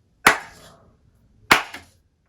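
Two sharp hand claps, about a second and a quarter apart, sound close and loud in a quiet room, each with a short ringing decay, as if triggering a clap-activated light switch.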